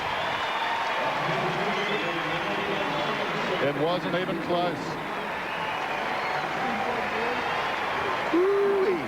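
A large swimming crowd in Perth roars and applauds after Australia wins the men's 4 x 200 m freestyle relay at the World Championships, a steady wash of cheering and clapping with a commentator talking over it.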